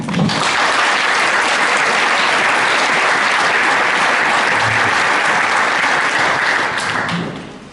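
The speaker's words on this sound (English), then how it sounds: "So please give a warm round of applause for Shirley-Ann." A conference audience gives a warm, sustained round of applause for an incoming speaker, dense steady clapping holding loud for several seconds before tapering off at the end.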